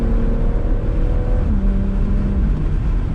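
A BMW 440i Gran Coupe with a ZF 8-speed transmission driven spiritedly: a loud, steady engine drone from inside the car that shifts pitch about midway, as with a gear change, and no talk.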